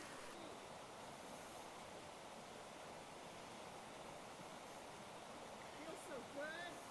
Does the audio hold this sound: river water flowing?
yes